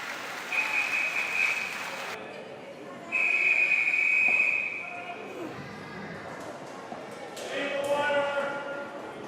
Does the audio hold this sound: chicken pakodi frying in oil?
no